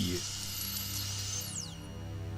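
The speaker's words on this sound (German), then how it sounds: "Klingt ja eher wie ein Bohrer als wie ein Laser." A laser in the video game Stories Untold gives out a steady, drill-like electric whine and hum with high tonal layers and a rising then falling sweep near the end, holding close and moderately loud.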